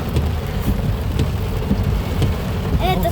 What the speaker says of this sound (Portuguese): Olha o tamanho da chuva que deu aqui em Buíque.